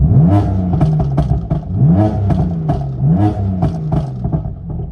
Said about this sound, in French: Vous entendez comment ça pète?